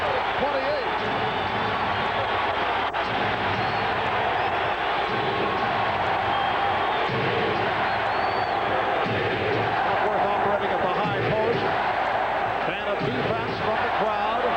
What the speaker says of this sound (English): Defense from the crowd.